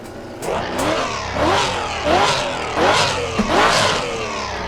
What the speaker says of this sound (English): So I'm using the Solar V8, the 2UZ.